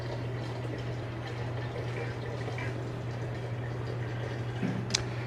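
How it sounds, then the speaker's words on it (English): Water is drawn for brewing Cascade raw black tea in a tea shop. It makes a steady, soft rushing hiss over a constant low electrical hum, with one small splash near the end. "Drawing your water."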